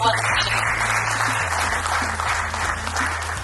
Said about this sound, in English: There's a round of applause for our